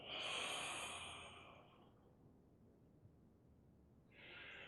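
A slow, audible exhale during a qigong breathing exercise, a soft breathy rush that fades out over a couple of seconds, followed by quiet and then the start of another breath.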